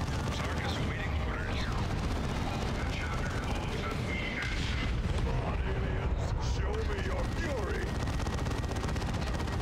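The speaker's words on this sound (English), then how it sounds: "My command is focus fire and start shooting." Dense, continuous gunfire and explosions from a battle in Warhammer 40K: Dawn of War 2, a loud, unbroken roar of shooting and cannon blasts with no pauses.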